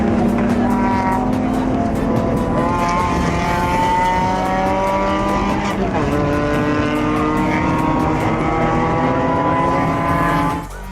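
A Mazda 2 race car with a 1.6 engine drones steadily down the back straight, heard from inside the cabin as a loud, continuous engine note that rises slowly through the gears with no break.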